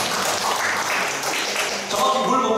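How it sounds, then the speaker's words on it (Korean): Audience at a craft beer lecture clapping in a dense, continuous patter, with voices mixed into the applause. "박수 한 번."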